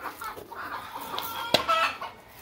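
A hen gives soft, broken clucks close by among other chickens on a rooster-breeding farm, with a sharp louder call midway amid low background noise.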